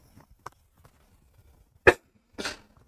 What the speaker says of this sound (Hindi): सॉरी खांसी बहुत आ रही है ना